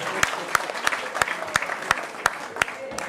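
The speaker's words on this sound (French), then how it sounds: "On applaudit pour ça." Audience applause fills the room in a steady, dense wash, with distinct louder claps cutting through at a regular rhythm of roughly three per second, moderately loud and close, with no talk over it.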